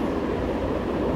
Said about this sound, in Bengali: এই হলো কগহুইল ট্রেনের লাইন। এই দাঁতওয়ালা লাইনে ট্রেনের চাকার দাঁতগুলি আঁকড়ে ধরে চলে।